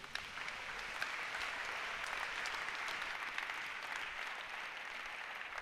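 A church congregation claps steadily and fairly loudly for several seconds, a dense wash of applause with no voices standing out.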